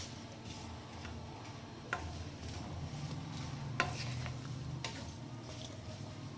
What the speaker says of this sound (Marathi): आणि छान हिला फ्राय करून घ्यायचं